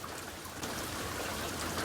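Rain falls in a dense, continuous hiss with a faint patter of drops, holding steady through a brief moment with no voices.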